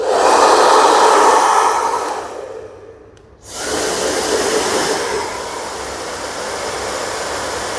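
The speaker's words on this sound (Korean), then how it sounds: "일반 드라이기에 비해서 소음 자체가 굉장히 낮아요" A high-end low-noise hair dryer blows with a steady whooshing roar, cuts out briefly, then starts again at a similar steady level.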